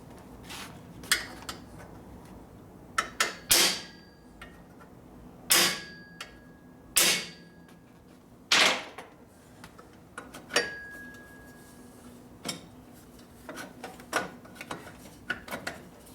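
A dimple tool tapped with a hammer on a 1967 Harley shovelhead motorcycle transmission during a rebuild, heard as scattered sharp metallic clinks and taps, some ringing briefly, close by against quiet workshop background.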